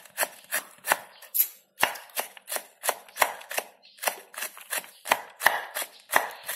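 A knife chops jackfruit vegetables into small pieces on a cutting board for a sautéed dish, a steady run of close, crisp chops repeating about twice a second with no talking.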